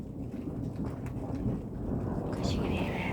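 Low rumbling thunder rolls through a rainy thunderstorm outside a house with gardens, a steady dense wash of rain underneath and a faint bird chirp near the end, all fairly close.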